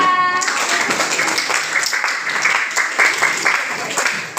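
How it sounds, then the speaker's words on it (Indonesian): Audience clapping steadily for a class group presentation, a dense continuous applause lasting several seconds. "Beri tepuk tangan untuk kelompok 2."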